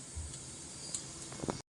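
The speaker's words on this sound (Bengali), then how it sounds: "জিরা দিয়ে দিলাম।" Cumin seeds sizzling in hot oil, headed for a beef and Malabar spinach dish, make a steady close hiss with a few faint pops before it cuts off abruptly.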